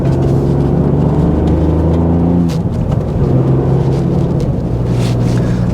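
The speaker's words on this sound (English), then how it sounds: "that was a little sort of acceleration in 4th gear there" Ford Fiesta ST hot hatch pulling in fourth gear, a loud, steady engine drone that rises in pitch, dips briefly at a shift-like break, then resumes climbing, heard close from inside the car with no talking.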